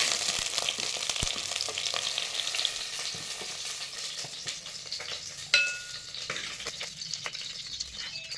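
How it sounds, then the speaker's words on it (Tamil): Brinjal sautéing in oil in a clay pot, a steady close sizzle and crackle throughout with occasional soft stirring scrapes and one sharper clink midway, no voices. "இப்போ பாருங்கள் கத்திரிக்காய் நல்லா வதங்கிருச்சு"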